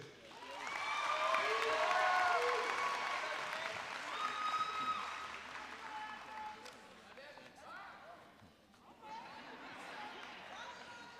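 A graduation audience applauds a senior class representative for the class of 2022, sustained clapping swelling loud then easing off, with whistles, cheers and voices mixed through the crowd.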